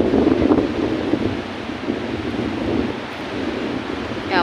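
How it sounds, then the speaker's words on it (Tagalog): Large sea waves after a typhoon make a loud, continuous roar of surf mixed with strong wind buffeting the microphone, with no pause between swells. "Ang laki po ng alon."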